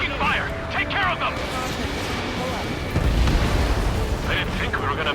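Gunfire and explosions strike a convoy in the air-combat video game Ace Combat 7: a dense, continuous rumble of blasts and shots, swelling into a heavier boom midway, under urgent radio voices talking.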